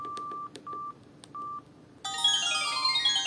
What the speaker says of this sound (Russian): Звуки, собственно, для клавиатуры, когда мы набираем номер.